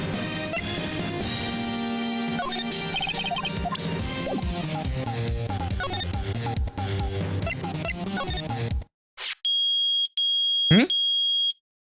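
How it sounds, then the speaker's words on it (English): Metal detector in Phoenix Wright Ace Attorney gives a loud, steady electronic tone in a few sustained bursts after the game music cuts out, with a short sharp hit between them. "it's beeping. The metal detector found something."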